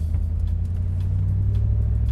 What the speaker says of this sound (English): it sounds like a bigger engine than a 351